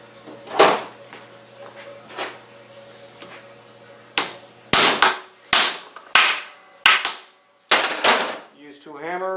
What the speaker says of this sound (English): Use 2 hammers, lube it up.